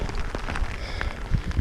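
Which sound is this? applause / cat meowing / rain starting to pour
rain starting to pour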